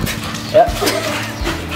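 A dog whimpers in a short, high whine and pants nearby in a yard, with brief muffled thumps and a person talking over it.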